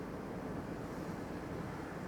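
Ocean surf churned by strong wind, a dense, unbroken roar of waves and wind buffeting the microphone, loud and steady with no voices.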